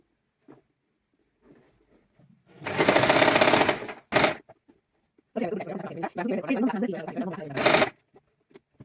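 Sewing machine stitching fabric while elasticated children's clothing is sewn, with loud bursts of rapid mechanical stitching in short runs separated by pauses.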